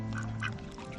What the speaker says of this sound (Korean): 농장에 온 지 2주가 지난 흰오리 3마리는 굉장히 잘 지내고 있다